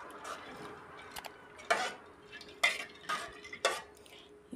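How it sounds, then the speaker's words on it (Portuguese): Canjica corn and water stirred in a cooking pot, a utensil scraping and knocking against the metal in a few distinct bursts with quiet gaps between. "Nós vamos estar mexendo."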